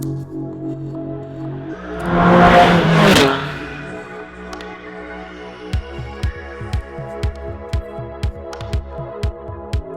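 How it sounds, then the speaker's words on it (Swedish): A fast Porsche race car overtakes from behind on a track, a loud rushing pass that swells and fades within about a second, followed by a steady rhythmic throbbing engine pulse. "Kommer en jävligt snabb bil bakom."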